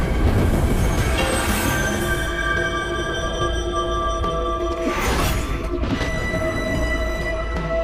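A train rolls along the rails with a continuous heavy rumble and drawn-out metallic wheel squeals, close and loud throughout.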